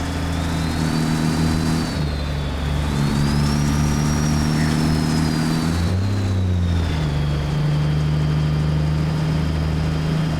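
A simulated heavy logging truck engine in American Truck Simulator drones loudly and steadily, shifting pitch as it revs and changes gear, with a continuous rattling rumble and no talk.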